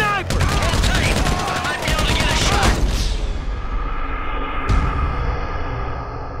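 Rapid gunfire in the video game GTA V, a dense burst of automatic shots for about three seconds, then a lingering rumble and one more sharp report, loud and close.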